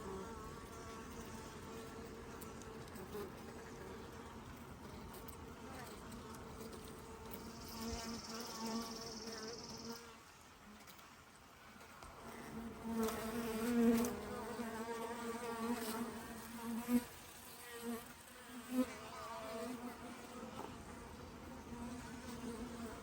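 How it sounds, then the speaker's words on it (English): Honeybees buzz steadily around a new queen's introduction tube in a hive, a soft, continuous drone with brief louder passes near the tube and a few light clicks, and no talking. "All right, we have a bee going in"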